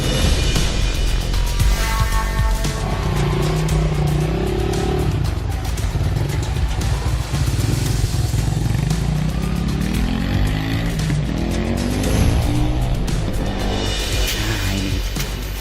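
A motorcycle said to run on water fuel is ridden on a test run, its engine rumbling loudly and continuously with shifting revs and clattering road noise throughout.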